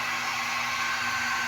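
Pet blower drying Bella, a chow puppy, giving a steady loud whooshing roar with a constant motor hum, continuous and close throughout.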